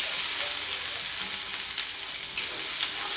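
Ground spice paste for a Maharashtrian alu vadi curry sizzles in hot oil while being stirred, a steady bright frying hiss with soft scraping throughout.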